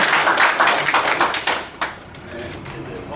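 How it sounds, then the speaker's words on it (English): An audience at a faith-based leadership talk gives a guest speaker a round of applause, dense clapping that is loud at first and then thins to a few scattered claps. "let's give him another round of applause"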